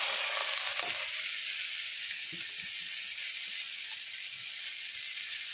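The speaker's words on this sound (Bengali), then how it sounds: "এরপর আমি এই মাখা ভেন্ডিটা দিয়ে দেবো।" Spiced okra (masala bhindi) frying in a pan with asafoetida, giving a steady loud hiss of sizzling oil throughout and a few faint stirring knocks underneath.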